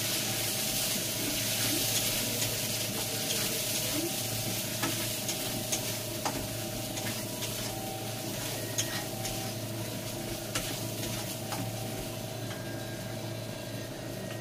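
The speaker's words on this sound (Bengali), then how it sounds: "ভালো করে এটা নাড়িয়ে নিই" Turmeric, chili and cumin powder being stirred in a hot pan: a steady, close sizzle with soft scraping and occasional light clicks of a spoon throughout, and no talking.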